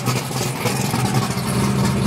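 A Dodge Hellcat engine idles nearby with a steady, loud low rumble and slight wavering throughout, with no talk over it.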